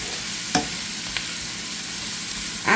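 Sausage sautéing in a pan gives a steady broadband sizzle, with a few sharp scraping clicks of stirring and a louder clatter at the end; no voices.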